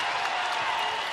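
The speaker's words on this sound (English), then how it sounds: "Crowd at the hump makes some noise" A crowd cheers at a women's college basketball game, Alabama against Mississippi State, as a steady, moderately faint wash of cheering and applause with no distinct talk.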